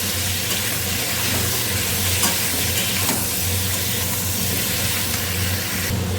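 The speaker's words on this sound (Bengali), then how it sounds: "গোটা জিরে ফোড়ন দিয়ে আলু আর পটলটা একসাথে ভেজে নেব।" Potato and pointed gourd frying with whole cumin seeds in a pan, a constant loud sizzle with occasional stirring scrapes throughout, no voices.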